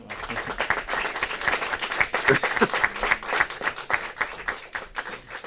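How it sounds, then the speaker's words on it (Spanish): Sustained applause from a seminar audience, dense and steady clapping for several seconds with a few faint voices mixed in. "un aplauso, ¿no?"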